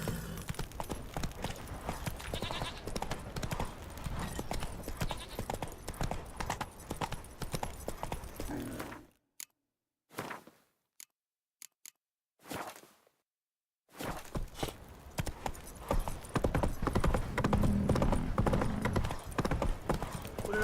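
Hooves of Geralt's horse Roach from The Witcher 3: Wild Hunt clip-clop steadily at a ride, then break into a near-silent gap with scattered thuds before resuming louder; no voices present.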